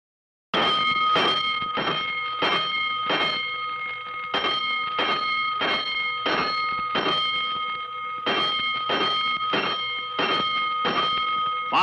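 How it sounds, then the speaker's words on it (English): Fire alarm bells in an old radio drama, a loud metallic bell struck in a fast, regular series of about twenty sharp rings with a short break partway through, with no voices. "Five bells. Stand by all stations. Attention, all districts. A 5-alarm fire. 5 bells."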